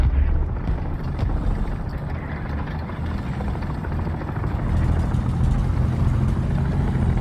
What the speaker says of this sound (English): Choppers inbound. The helicopters inbound.